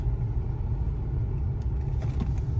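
A 2003 Chevrolet Trailblazer SUV engine rumbles steadily with a deep, slightly uneven chug while stopped, heard from inside at close range with no talking.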